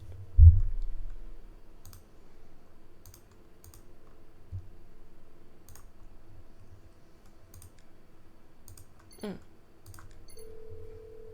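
A phone is dialed in the Nancy Drew video game Mystery of the Seven Keys, set in Prague: a thump and scattered light key clicks over a steady low hum, with a brief rising electronic tone near the end.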